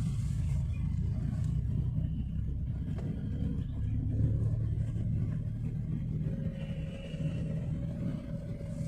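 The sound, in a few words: Nissan Micra car driving to Yercaud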